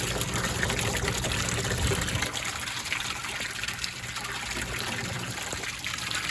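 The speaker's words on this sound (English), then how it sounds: "It disperses it just evenly on both sides and keeps the water nice and aerated." An aquarium spray bar spreading water evenly to both sides, a continuous close trickling and splashing that runs steadily without talk.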